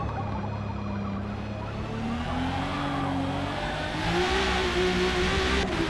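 Widebody Supra S Class six-cylinder racer producing over 1100 HP in a racing video game at Daytona, its engine holding a steady loud drone that climbs in pitch through the gears, with no talking.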